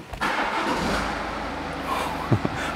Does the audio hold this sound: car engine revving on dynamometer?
yes